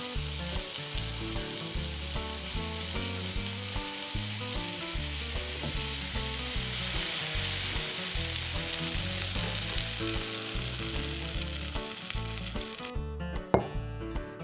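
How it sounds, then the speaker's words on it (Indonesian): Eel pieces frying in a pan for honey barbecue eel, a steady close sizzle and crackle of hot oil running throughout, with occasional stirring, no voices. "Goreng selama 15 menit."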